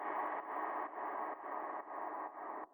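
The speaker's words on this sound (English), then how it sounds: "creating this dark and dirty reverb" A dark, gritty wash of distorted reverb swells in steady pulses, sustained and dense with a muddy, dirty texture throughout.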